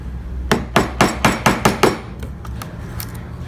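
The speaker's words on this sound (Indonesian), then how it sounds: "kalian bisa gunakan pahat kol ceper atau kol cebek seperti ini ya" A mallet strikes a flat wood-carving chisel into wood in a quick, even series of about eight sharp knocks, followed by a few lighter, scattered taps, all close and distinct.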